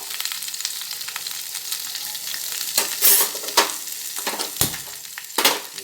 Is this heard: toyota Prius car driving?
no